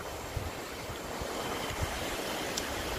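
Flowing water of a small river called Puli Khola, steady broadband rushing that fills the clip, with faint wind buffeting and no voices.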